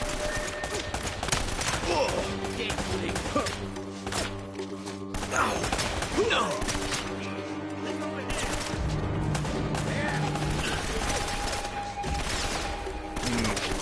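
Shotgun fire in the video game Uncharted: Drake's Fortune, scattered blasts mixed with other gunfire and a busy game soundtrack, with a voice talking over the action throughout.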